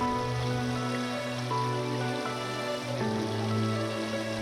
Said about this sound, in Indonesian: Mengalir dari Desa Lambah di Bukit Tinggi, aliran sungai ini berujung di Desa Sitingkai, Batang Palupu, Kabupaten Agam.